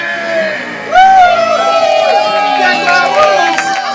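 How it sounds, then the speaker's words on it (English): A live-show audience cheers and whoops, with a loud rise of voices after a quieter start and shouts carrying through the crowd noise. "give yourself a big round of applause for coming out tonight"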